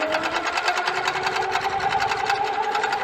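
A fast domestic sewing machine runs at high speed, a steady close whirring and rapid needle clatter that continues without a break and with no voices.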